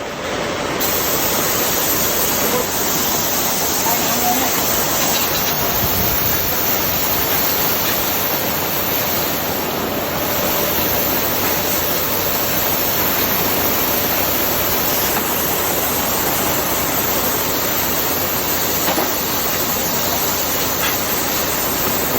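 Heavy, steady rain pours in Krabi at a high-voltage electrical substation, forming a dense, unbroken hiss that stays loud and even from start to finish with no voices.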